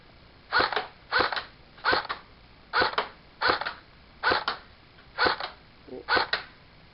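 Airsoft gun test fired outdoors: eight sharp reports in rhythmic pairs about a second apart, fairly close and loud, each shot a crisp snap with a short tail.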